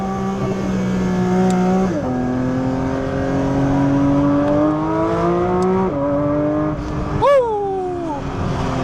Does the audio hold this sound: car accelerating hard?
yes